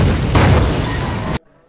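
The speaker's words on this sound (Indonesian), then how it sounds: "tiba-tiba mobilnya si Roland meledak." A car explodes in a tunnel in a film, a loud dense burst of noise that holds for over a second, then cuts off abruptly into near silence.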